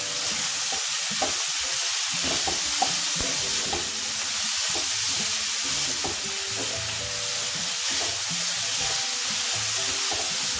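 Shredded cabbage fries in a pan under a loud, constant hiss, with a spatula scraping and tapping at irregular intervals close by, no voices.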